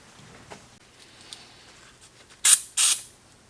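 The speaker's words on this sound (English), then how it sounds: "For that I can use contact cleaner." Contact cleaner is sprayed onto the contacts of a 1963 EICO 1064 variable DC power supply in two short, loud, close hissing bursts with a brief gap between them, after a few faint taps and handling noises.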